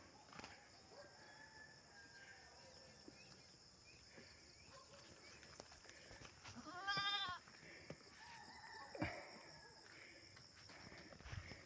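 Farm goats bleat amid quiet outdoor ambience, with one clear nearby bleat in the middle and a shorter call later, surrounded by faint rustling and distant background noise.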